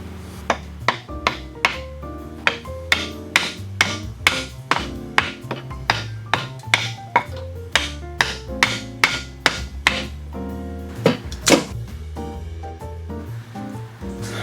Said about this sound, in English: maybe a piece of wood and a hammer.